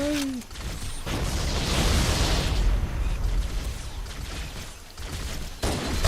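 Grenade explosions in a video game, where grenades set off other grenades: rolling booms and bursts that swell into a sustained rumble for several seconds, loud and close, with brief voices at the edges.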